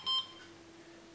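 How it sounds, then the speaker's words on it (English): Ortovox S1+ avalanche transceiver running its self-test, a short cluster of high electronic beeps at the start, then a faint steady electronic hum, with no talk. "If I open the transceiver now, you'd be able to see it doing its self-test routine."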